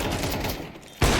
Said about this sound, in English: Seems like shots are being fired